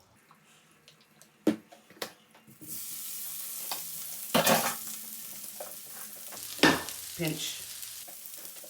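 Crushed new potatoes tipped back into a hot pan of oil, sizzling steadily after a few clatters, with bursts of louder frying and stirring scrapes as they settle, and a brief spoken word.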